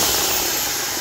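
A Black+Decker KR554RE corded variable-speed reversible hammer drill runs continuously, a loud, dense, steady whirring close up with no pauses and no talking.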